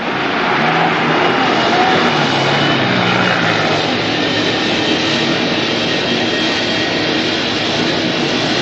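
Airliner arriving at an airport gate, a loud, dense, steady engine roar that holds without break and dominates the scene, with no speech.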